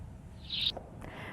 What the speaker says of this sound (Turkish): Eskişehir'de bulunan bir caminin duvarlarını saran sarmaşıklardan o kuş sesleri yükseliyor.